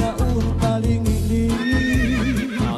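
A horse neighing sound effect plays on a radio news broadcast, one long loud whinny with trembling pitch over a musical bed, with no talk.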